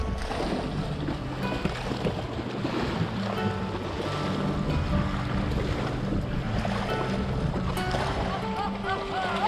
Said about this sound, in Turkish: Deniz burada.